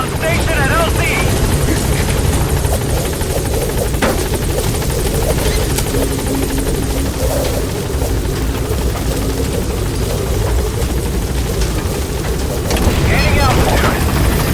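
Helicopter rotor thudding steadily and loudly throughout as the B-Quad gunship arrives at the landing zone in Metal Gear Solid V: The Phantom Pain, with radio voices and game effects layered over it.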